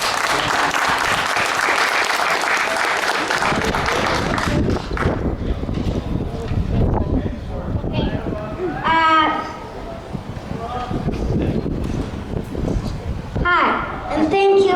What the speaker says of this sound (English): Let's give a little round of applause for Ishwar.